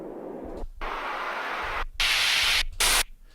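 A harsh wash of white noise swells in blocks, cutting out briefly and returning brighter and louder, like a riser building tension.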